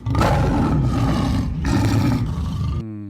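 A big cat roar sound effect plays from a phone app: two loud, rough, drawn-out roars, close and alone, ending abruptly.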